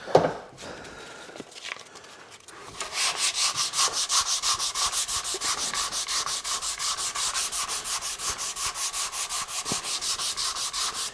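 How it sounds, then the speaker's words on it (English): Hand sanding on a wooden ogee bracket foot: a steady run of rapid back-and-forth rubbing strokes, close and moderately loud, starting after a few quiet handling noises and continuing evenly to the end. "Let me just sand a little bit on this side."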